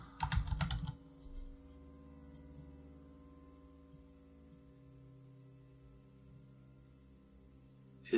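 Quick bursts of typing on a computer keyboard clatter at the start, then give way to sparse, faint key taps over a quiet background hum.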